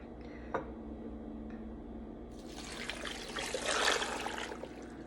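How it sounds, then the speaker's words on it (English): Water splashes and trickles into a pot of goat meat stew, building to a louder gushing pour in the second half, with a couple of faint clinks early on. "Just gonna add some water to this."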